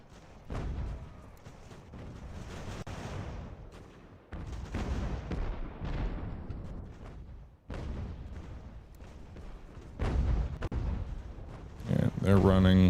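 Artillery in Ultimate General: American Revolution fires repeatedly. Deep booms and rolling cannon fire rise and fall in long swells, with a person talking over the battle.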